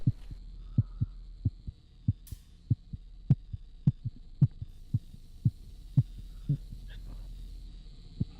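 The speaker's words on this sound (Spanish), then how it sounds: "Estoy escuchando como unos latidos." A steady, slow heartbeat thumps from The Cat Lady horror game, about two beats per second, deep and regular over a low hum, with no one speaking.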